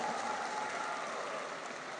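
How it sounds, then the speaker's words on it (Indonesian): A crowd claps at the PORSENI NU 2023 opening ceremony, a steady wash of applause heard from a distance with a faint tonal hum running underneath. "Tepuk tangan."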